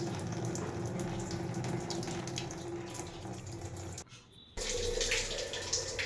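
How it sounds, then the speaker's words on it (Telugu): Water pours steadily from a tap fed by a newly fitted household geyser, a continuous rushing flow that drops out briefly and then resumes at full strength. "ఆ గీజర్లో నుంచి బయటికి నీళ్ళు వస్తున్నాయి."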